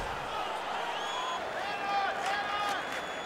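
Hockey crowd in NHL 15 roaring with steady cheering and applause after a fight, a continuous dense wash of noise with some overlapping voices.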